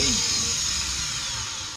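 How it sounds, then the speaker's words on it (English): A plugged-in power drill runs steadily at high speed for under two seconds, close and loud with a constant whine, then cuts off abruptly. "Just plug in my drill. Let's see if it works."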